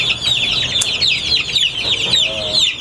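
A chick peeps in steady, high, rapid cheeps while being handled during a poultry procedure, loud and close, with faint low background noise.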